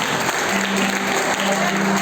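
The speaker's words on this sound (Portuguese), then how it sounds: "Aplaude o Senhor, meu irmão." A church congregation claps during a sermon, a loud, thick, unbroken wash of many hands, with a faint voice and hum mixed underneath.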